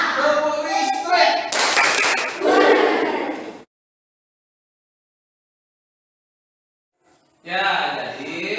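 Students in a classroom chant and clap together in a rhythmic routine, loud group voices and claps for a few seconds, then abrupt silence before a voice resumes.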